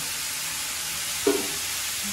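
Vegetables frying in a pan for a home-style fish and vegetable dish, a steady broad sizzle throughout with a brief louder stir or clatter near the middle, no voices.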